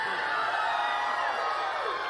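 Crowd at Martha Coakley's 2010 Massachusetts Senate special election concession speech, a dense wash of cheering and whooping voices sustained throughout, moderately loud and slightly distant.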